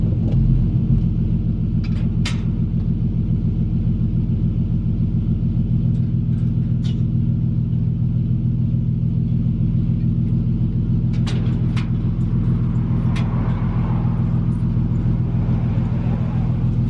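A car idles with a steady low engine rumble while being driven out of a courtyard on a sunny day, the hum constant and close throughout with a few faint higher clicks and taps on top.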